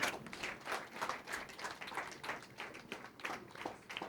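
An audience claps together at a church memorial service, a dense run of overlapping hand claps that swells and eases in loose rhythmic waves throughout, moderately loud and without speech.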